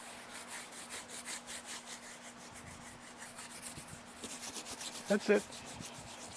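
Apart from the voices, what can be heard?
hand rubbing the top of a giant tortoise's shell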